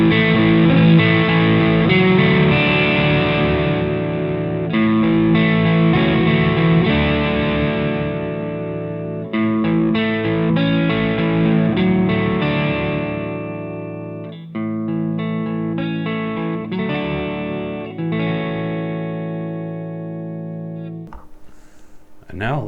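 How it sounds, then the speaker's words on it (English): Electric guitar through a Rothwell Switchblade distortion pedal: distorted chords ring out and sustain, gradually growing cleaner as the guitar volume knob is turned down, ending in a brief scrape and silence. "turn down the volume pot and you can hear how it cleans up"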